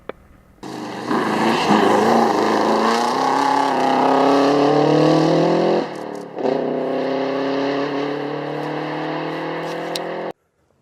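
A Subaru Impreza rally car in classic 555 Colin McRae livery, driving in at the Benarkin Rally, roars loudly with rising revs and a brief gear-change dip before holding a steady high engine note that cuts off abruptly.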